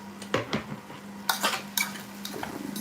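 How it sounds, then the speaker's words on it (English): Onions get tossed with sausage in a pan: a few distinct clanks and scrapes of a utensil against the pan over a faint steady hum and light sizzle. "I'm gonna mix some onions up with my sausage"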